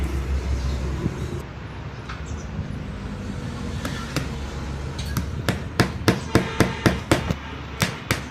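Sharp hammer blows drive nails to fasten a plastic seat cover onto a motorcycle seat, starting sparse and then coming in quicker, louder strikes over a steady low hum.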